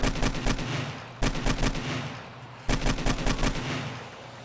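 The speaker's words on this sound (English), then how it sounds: "Man, the AK is so much fun." An AK rifle fires in three rapid bursts in the video game 7 Days to Die, each a quick rattling volley separated by brief gaps, with no talking.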